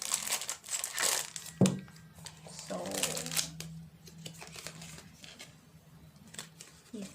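Cardboard and plastic packaging of a watch box crinkling and rustling as it is opened by hand, close up, with a sharp tearing crackle partway through and someone talking quietly over parts of it.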